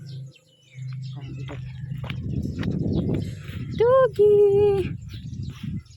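Two brief, clear bird chirps ring out near the end, heard outdoors on a morning walk, over a person talking and a background of rustling and footsteps.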